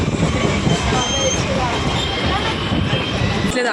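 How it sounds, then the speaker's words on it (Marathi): Inside a crowded Mumbai local train travelling toward Dadar in the afternoon, a loud continuous rumble of wheels and carriage rattle fills the scene, steady throughout with faint squeals. "ट्रेनमध्ये बसलेली आहे, गर्दी आहे तरी पण"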